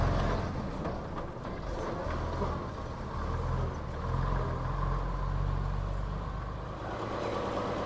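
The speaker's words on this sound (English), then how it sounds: "Next up is a 1959 AEC Regent in the black and white colours of Lockheed's from Evenwood near Bishop Auckland." A 1959 AEC Regent bus in Lockheed's black and white livery, at the Beamish public transport event, runs with a steady, deep diesel rumble that holds even throughout, with no voices.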